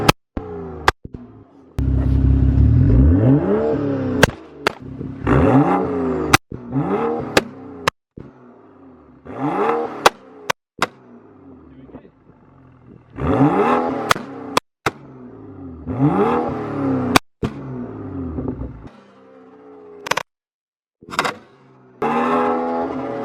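A BMW 335i with a flame tune revs hard several times, each loud sweeping rev dropping off into sharp, crackling exhaust pops and bangs, close up and repeated across the stretch with brief quiet gaps.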